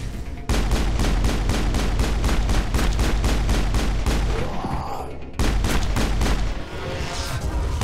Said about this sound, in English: Now we do get caught up in the electric explosion here, but we can survive one of those.